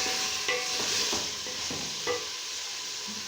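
Carrots and boiled peas being stirred in a frying pan, giving a steady sizzle with rhythmic scraping and clatter from the spoon, close and fairly loud.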